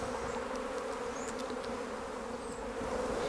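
Honey bees drone steadily in an open beehive during an inspection with a queen excluder. The buzzing is loud, close and unbroken throughout.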